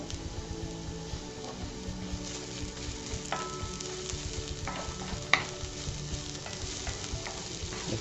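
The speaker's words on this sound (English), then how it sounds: "First I'm going to toss in some red onions and some jalapenos." Red onions and jalapeños sizzle steadily in a pan that just held mushrooms, a constant close frying hiss with occasional stirring scrapes and one brief clink.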